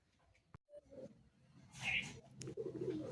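Pigeons coo in short, soft throaty calls at close range, with light background noise and a brief rustle in between.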